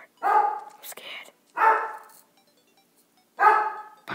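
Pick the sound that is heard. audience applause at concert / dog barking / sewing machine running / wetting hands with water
dog barking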